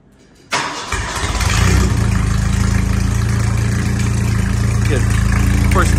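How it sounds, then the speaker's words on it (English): After a brief quiet moment, a Mercedes Gazelle's 2.3-liter four-cylinder engine cranks on a cold start at 47 degrees and catches, then settles into a steady, loud idle that continues to the end. "let's give it a start"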